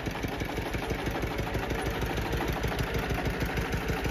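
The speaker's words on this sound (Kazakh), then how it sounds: "Қытай трактор." A Chinese tractor engine runs steadily, a close, continuous low mechanical chugging with an even rhythmic knock and no pauses.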